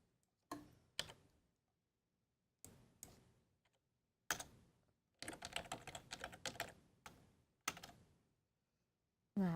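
Bursts of computer keyboard typing, quick clusters of key clicks separated by short pauses, close and fairly quiet.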